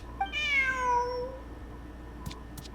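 A cat in Genshin Impact lets out a single clear, drawn-out meow, close and fairly loud, followed by faint ambient clicks.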